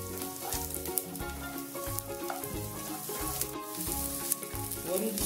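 Spices frying in a pan for soya niharika, a close steady sizzle with a repeating low clatter of stirring through the whole stretch.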